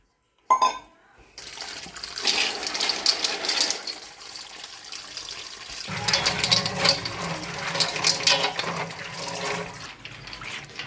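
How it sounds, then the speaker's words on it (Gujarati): Raw peanut kernels being washed in water in a wide bowl: after a sharp start, water splashes and sloshes continuously with clinks and rattles of the kernels and vessel, close by. "આને સારી રીતે ત્રણથી ચાર પાણીમાં ધોઈ લેશું"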